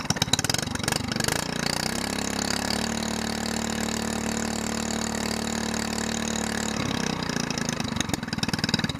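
An SPS longtail boat engine runs after long storage, a loud, steady idling drone with a pulsing throb held close for several seconds, with rougher revving bursts at the start and end.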